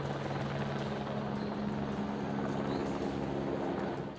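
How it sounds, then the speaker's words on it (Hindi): An army helicopter carrying radar flies over the Rishiganga river, giving a steady, fairly faint rotor drone that holds throughout with no voices. "ऋषि गंगा नदी के ऊपर रडार लेकर घूमता सेना का हेलीकॉप्टर।"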